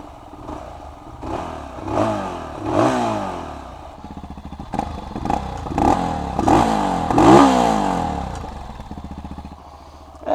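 An SWM Outlaw 500 motorcycle engine turns over and fires, then runs with uneven revving bursts and a clattering single-cylinder throb. It is close and fairly loud throughout.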